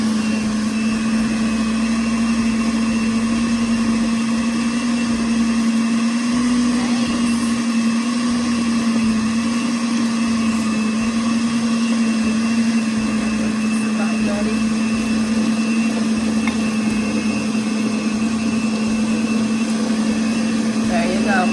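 Electric mixer whirring steadily as it mixes carrot cake batter, a continuous motor hum running the whole time with no break.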